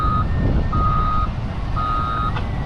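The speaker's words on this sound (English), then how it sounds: "there's a truck coming" A truck at a roadside work site gives out three evenly spaced, loud, piercing reversing beeps over a steady rumble of engine and traffic, with no talk.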